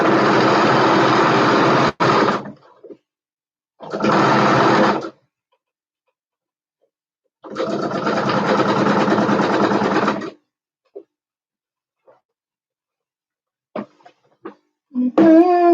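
A sewing machine runs in three separate bursts of steady, fast whirring, each a second to a few seconds long, with silent pauses between and a few small clicks and taps near the end.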